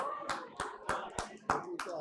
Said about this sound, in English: Big round of applause for Nupur for all her efforts.